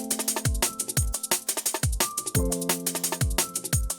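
A liquid drum and bass drum loop plays with piano chords, giving a steady fast beat with punchy kicks and crisp snares under sustained keys, loud and without talk.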